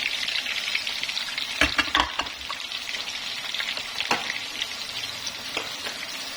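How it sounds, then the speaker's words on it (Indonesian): Lemongrass, ginger, lime leaves and spices frying in oil for a beef-skin rica-rica dish, a steady close sizzle with a few louder crackling bursts and stirring scrapes, no voices. "Kita masak sampai harum dan minyaknya keluar"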